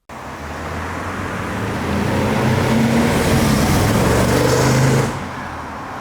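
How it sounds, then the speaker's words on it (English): A 2009 Bentley Brooklands with a massive engine accelerates, the deep induction gasp and distant drumming exhaust building into a loud, rising roar before easing off sharply near the end. "The induction sound, that massive engine gasping for air, combined with that distant, deep drum roll coming from the exhaust"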